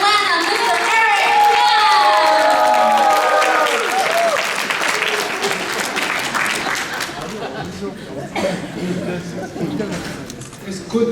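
A crowd at an awards ceremony for influential Asian Americans in Georgia applauds loudly, with cheers and voices over the clapping at first, then the clapping thins and fades toward the end.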